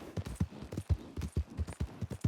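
Horse hooves clip-clop in the video game Red Dead, a steady close rhythmic trot of repeated hoof beats heard alone without speech.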